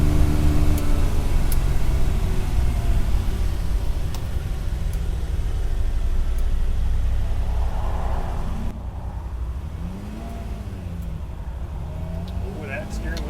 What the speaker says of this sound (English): first time driving Here we go. a vintage Ferrari